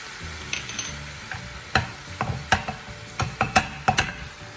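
Teriyaki sauce hits a hot frying pan with chicken, sizzling steadily while sharp clicks and scrapes of a utensil tap out irregularly, growing busier toward the end; no talking.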